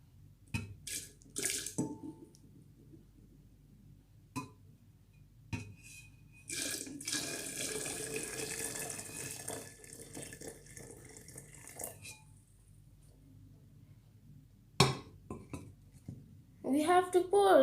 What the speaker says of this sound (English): now we will take hot water and pour it slowly